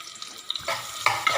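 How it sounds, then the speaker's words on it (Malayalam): Two onions hit hot oil and get stirred in a pot for mutton stew, giving brief scraping and sizzling bursts, close and short, with no voices. "ഇതിലേക്ക് ഒരു 2 ഉള്ളിയാണ് ഞാൻ ചേർത്ത് കൊടുക്കുന്നത്"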